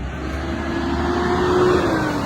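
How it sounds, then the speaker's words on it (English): A big truck passing by outdoors, a steady low engine rumble and road roar that builds gradually and stays loud throughout, with no talking. "Sorry, there's a big truck."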